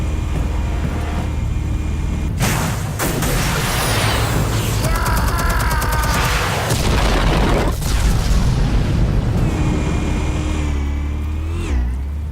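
Explosives detonate in Batman: The Telltale Series: loud booms roll into heavy rumbling, with mechanical clatter and whining debris sustained at high volume throughout.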